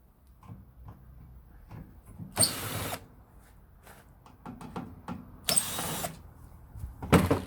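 Screws are backed out with a power driver to remove a cover, giving three bursts of whirring at about two, five and seven seconds, with quieter clicks and handling noises between them.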